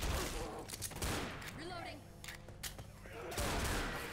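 Left 4 Dead gunfire aimed at a Hunter: rapid close shots in quick bursts amid chaotic game noise, with a voice talking over part of it.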